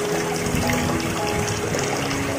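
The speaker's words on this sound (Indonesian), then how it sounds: "Ombak menghantam ringan lambung perahu" Water washes steadily against the hull of a small boat moving slowly through the dark near a fishing village, a continuous close rushing and sloshing with no clear breaks.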